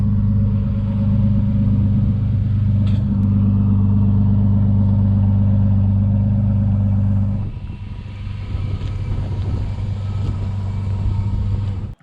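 A 1994 Nissan Skyline R33 idles with a loud, steady low engine rumble while being backed slowly into a shed, the tone dipping briefly partway through before settling back.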